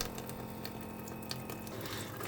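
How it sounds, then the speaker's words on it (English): Steady running water from the push-button pump tap of a homemade portable camp sink, a continuous close hiss and trickle with no talking over it. "your water instantly starts flowing."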